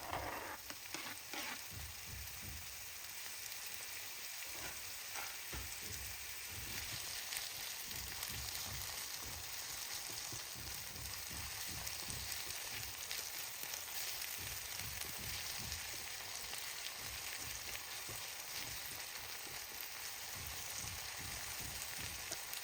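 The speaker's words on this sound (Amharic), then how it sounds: "በመቀጠል ቲማቲማችንን እናደርግና እናበስላለን።" Chopped tomatoes fry in a pan for Ethiopian dirkosh firfir, giving a steady, continuous sizzle and crackle with no talking throughout.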